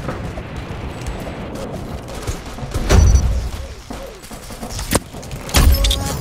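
Gunfire from a gun in a Roblox game: a few sharp, isolated shots crack out over steady game background noise, spaced a couple of seconds apart.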